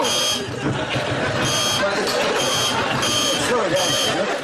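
An electric buzzer gives off a loud, harsh, pulsing drone in repeated bursts under a lively studio audience and chatter.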